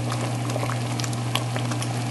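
Thick homemade marmalade bubbles and spatters in a pot on the stove, a steady close simmer of popping bubbles with a low hum underneath and no talking.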